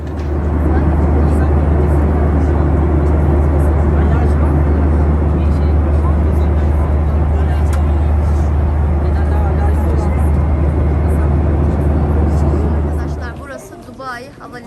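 Steady, loud low drone fills an airplane cabin while it waits before takeoff, a constant engine and air-system rumble that drops off sharply near the end.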